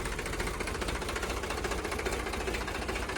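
A Sonalika 60 tractor engine runs steadily at close range, a loud, continuous rattling diesel chug with a dense knocking texture and no pauses.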